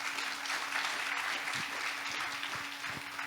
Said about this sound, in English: So a huge round of applause for all of them,